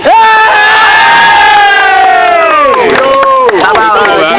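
A dense crowd at a high school rap battle cheers and shouts in a loud, sustained roar, with voices whooping and yelling together close up throughout.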